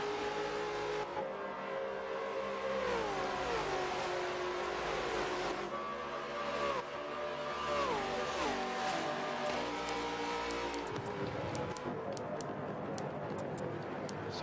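Supercars racing at Bathurst on a cold, foggy day, engines screaming as revs rise and fall through gearshifts, heard loud from onboard, with clicking ticks near the end.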